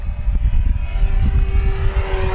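An FMS Ranger RC model airplane buzzes low down the runway at an RC flying field, its propeller whine loud and close with a quick pass, no voices.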